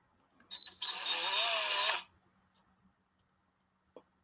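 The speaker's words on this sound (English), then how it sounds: "it looks like it's already kind of set up for me to drill the hole in it" A power drill whirs for about a second and a half while boring a hole into a painted miniature, a close high-pitched whine starting and stopping abruptly, followed by a few faint clicks in a quiet room.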